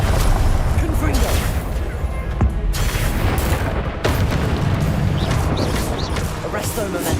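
A Confringo fire spell explodes in a Harry Potter video game, a dense, loud booming burst layered over continuous game effects and overlapping voice sounds throughout.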